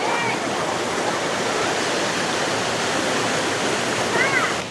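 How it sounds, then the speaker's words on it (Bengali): Water rushes steadily at Bamni Falls in Purulia, a dense, continuous roar of falling and flowing water close by, with faint voices briefly audible beneath it. "আর এই যে এদিকে জল যাচ্ছে পুরো এখান দিয়ে"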